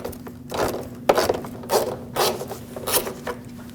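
Ratchet clicks in short bursts while a 10mm fastener is backed out of the inner fender liner on a 2006-2015 Lexus IS250, close and moderately loud over a steady low hum.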